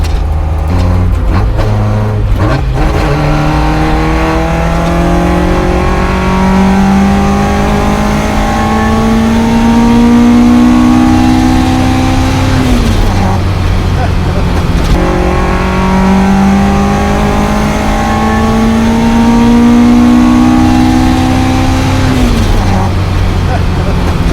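A Toyota KP60 Starlet with a ported 4A-GE engine revs hard and loud, climbing through two long rising sweeps that each drop back sharply, with the engine droning steadily between pulls.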